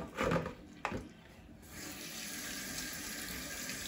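Tap water running into a kitchen sink while spinach is rinsed, a steady close splashing stream with a few sharper splashes at the start, no voices.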